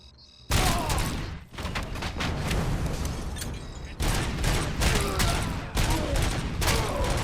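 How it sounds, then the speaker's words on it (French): A grenade blast and a dense fusillade of gunfire from the video game Robocop: Rogue City fill the scene loudly and continuously, with repeated bursts and booms. "Ça, c'était une grenade, ça."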